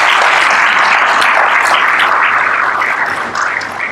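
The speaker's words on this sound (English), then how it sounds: "Please, a round of applause to her." Loud, dense applause from a large audience, steady clapping throughout that eases slightly toward the end.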